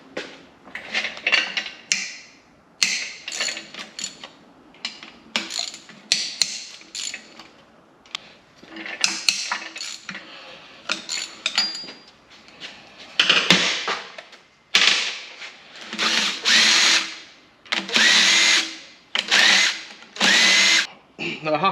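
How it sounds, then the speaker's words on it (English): Cylinder head bolts being removed from a Nissan Micra K11 engine, with repeated bursts of a power tool whirring and rattling, separated by short pauses and sharp ratchet clicks, loud and close. "I'm going to start removing the head bolts now."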